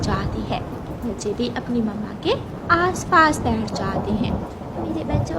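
Cartoon thunderstorm with rain, a steady rain hiss and rumbles beneath someone narrating in Hindi, with the voice carrying over the weather throughout.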